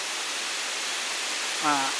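A waterfall along a rainy-season forest trail pours in a steady, broad hiss of falling water; a brief voice cuts in near the end.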